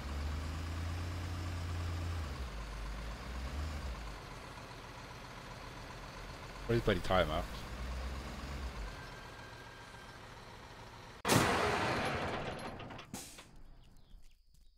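A flatbed truck in a construction video game rumbles steadily with a low engine drone, then a louder burst of clatter and a sharp clunk near the end, with brief talk over it.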